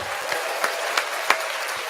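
A small group claps briefly, a thin, scattered patter with a few sharper claps, fading quickly.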